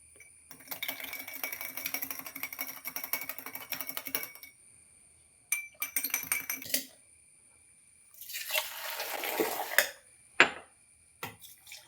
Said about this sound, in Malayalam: ഇനി അതിൽ പൊടിയെടുത്ത് ചായ അരിപ്പയിൽ